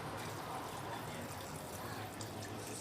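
A steady, fairly quiet stream of water pours from a one-litre container into cake batter, running continuously without a break.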